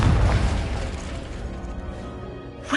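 Confringo spell explosion in Hogwarts Legacy, a loud, deep blast that booms at the start and rumbles away over a couple of seconds, ending with a small burst.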